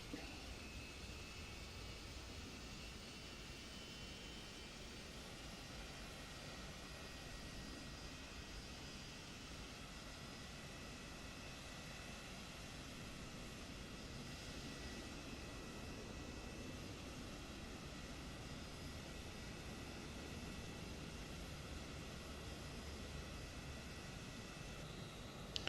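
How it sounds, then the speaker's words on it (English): Jet engines of a PMDG 777-200 in Microsoft Flight Simulator 2024 spool up on start, a steady broadband roar with a rattling undertone holding evenly throughout, no voices. "I do like that sound of the rattling engine starting up."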